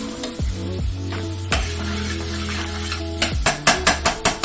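Sausage browns in a hot pan, giving a continuous sizzle with a low steady hum underneath, then a quick run of sharp scraping taps near the end.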